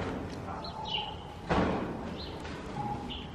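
Several faint bird chirps come and go over a quiet background, with a dull thud partway through.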